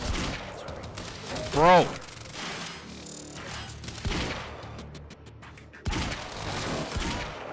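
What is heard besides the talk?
gunfire in the video game Quantum Break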